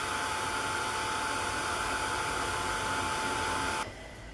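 A hair dryer blows steadily on wet paint on an art journal page, a loud, constant whooshing hum that cuts off sharply near the end.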